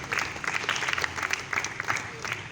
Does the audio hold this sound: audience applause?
yes